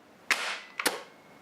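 An airsoft replica fitted with a UAF piston, fired with a finger sealing the barrel tip, gives two sharp dry snaps roughly half a second apart, close and crisp against near silence.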